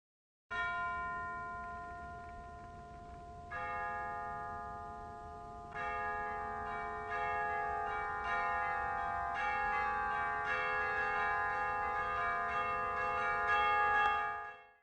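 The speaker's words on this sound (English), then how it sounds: "a person playing the chimes by hitting them with a large mallet" Tubular bells (chimes) struck with a large mallet, several separate strikes spaced a second or two apart, each ringing out bright and church-like and overlapping into a building, sustained shimmer.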